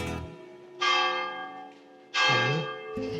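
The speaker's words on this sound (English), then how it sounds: "Just the bells going off, they're just again giving it a magical feeling to this town." Church bells ring in the hilltop Andalusian town of Arcos de la Frontera, two loud, close strikes about a second and a half apart, each leaving a long, shimmering hum that fades between them.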